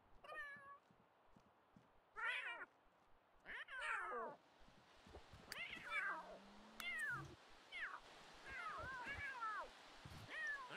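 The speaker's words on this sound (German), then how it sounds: "Was war das für ein trauriges Miau?" Sad, drawn-out cat meows from The Sims 3 life-simulation game repeat several times at a moderate distance, some short and some wavering, with quiet background sounds between them.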